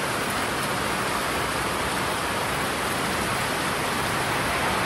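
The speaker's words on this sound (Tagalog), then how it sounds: "Sobrang lakas ng ulan." Heavy rain pouring onto roofs, a loud unbroken hiss of dense downpour filling the whole stretch with no voices or pauses.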